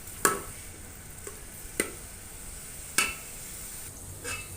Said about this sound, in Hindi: प्याज को हमने अच्छी तरह ब्राउन करना है